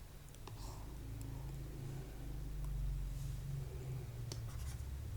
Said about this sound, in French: finalement j'écris la solution S